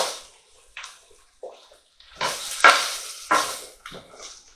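Flat mushrooms cooking in a pan with butter or oil for chicken Marsala give off intermittent bursts of watery hissing and stirring scrapes, close and moderately loud, with quiet gaps between.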